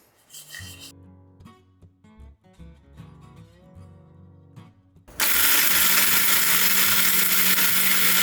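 A mixer grinder roars on abruptly and runs loud and steady, grinding dry-roasted thandai spices into powder, after several seconds of quieter clinks and handling sounds as it is readied.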